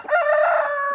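A rooster crows once among a flock of chickens, a single loud, close, drawn-out call lasting about a second.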